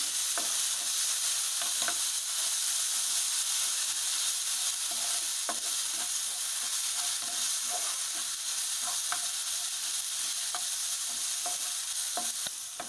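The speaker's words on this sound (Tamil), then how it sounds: "பச்சை வாசனை போன உடனே நம்ம சிக்கன் போட்டு வதக்கிக்கலாம்." Chicken is sautéed with ginger garlic paste in a pan, giving a loud, constant sizzling hiss with intermittent scraping and clinking from stirring throughout.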